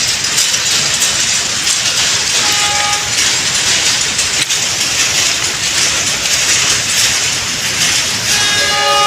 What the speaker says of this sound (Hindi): पाकिस्तान की फास्ट ट्रेन जो 100 अप की स्पीड से आ रही है